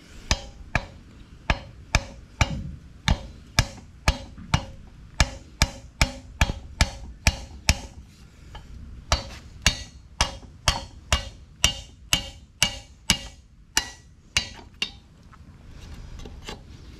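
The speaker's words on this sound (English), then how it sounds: "So we're gonna go ahead and remove those with the seal puller" Sharp metallic impacts repeat in a quick, steady rhythm, dozens of hard knocks with a brief pause midway, as a seal puller is hammered to pull an oil seal from a 1959 Willys Jeep CJ-5 Dana front axle.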